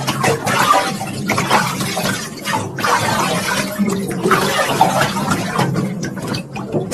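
Water running steadily for a bath in a radio drama, fed from a tubewell by a pump into a shower-style spray, a continuous close hiss and splash with no voices over it.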